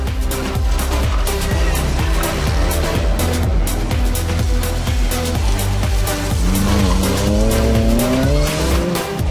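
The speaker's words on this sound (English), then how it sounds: "Going through the woods in 5th gear, flat out." A rally car blasts flat out through woods in fifth gear on a special stage, its engine loud and steady with rapid rhythmic surging, then a rising whine near the end.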